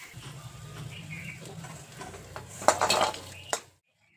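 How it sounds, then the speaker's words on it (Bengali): Fried lentil fritters lifted from a pan: a quiet background hum, then a burst of clattering metal utensil scrapes and clinks near the end before sudden silence. "বড়াগুলো দুপাশটায় লাল করে ভেজে নিয়েছি। এখন বড়াগুলোকে তুলে নিচ্ছি।"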